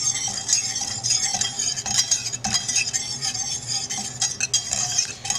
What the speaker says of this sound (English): now we're going to mix that in